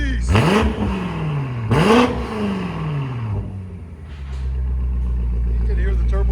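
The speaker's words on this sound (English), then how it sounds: "You can hear the turbo spooling." A 2020 BMW M8 Competition with downpipes and Flowmaster Outlaw exhausts gives two sharp, loud revs that rise and fall, then settles into a steady low rumble with faint whirring.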